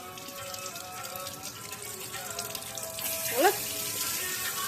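Tap water runs steadily from a kitchen faucet, a broad hiss that swells louder partway through, with faint talk and clatter around it.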